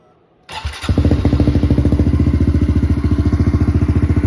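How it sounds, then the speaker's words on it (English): A 2022 Honda CRF110 dirt bike with a Yoshimura exhaust cranks on electric start and fires up, then settles into a loud, steady, thumping idle with a rapid, even pulse from the exhaust. "start this up for you so you can hear how the Yosh exhaust sounds"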